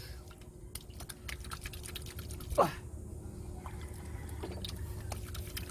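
A single brief splash of water comes from someone washing their face at a local house by Sabang beach in the Philippines, set against a low steady background hum, with a short exclamation afterward.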